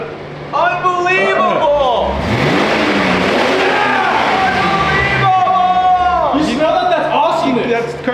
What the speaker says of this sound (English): Stop running a car inside, Matt.